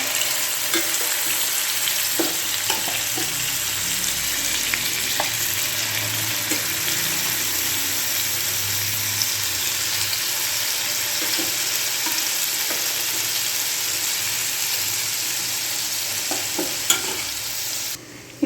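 Chicken pieces for keto butter chicken fry in a pan with a steady, close hiss and crackle that runs unbroken throughout, with faint clinks of stirring and no voices.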